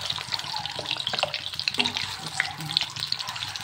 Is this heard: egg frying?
yes